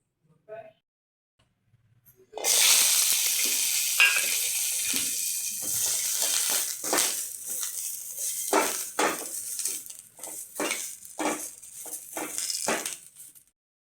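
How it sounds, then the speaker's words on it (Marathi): Ginger, garlic, coriander, curry leaves and green chilli hit hot oil and sizzle loudly and steadily while being sautéed for palak paneer, with stirring and clinks of a utensil against the pan. "त्यासाठी लागणारे साहित्य आहे अद्रक, लसूण, कोथिंबीर, कढीपत्ता आणि मिरची. हे आता आपल्याला परतून घ्यायचं आहे."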